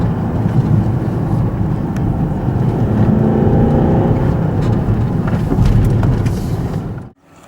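A 2013 Range Rover Vogue cruises along country lanes, heard as a continuous low engine and road rumble that holds steady before cutting off abruptly near the end, with no speech.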